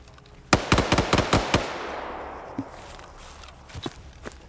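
Rapid bursts of gunfire from an Overwatch team in Arma 3 crack out in a quick rhythmic string of loud shots, trailing into a fading echo with a few scattered shots afterward.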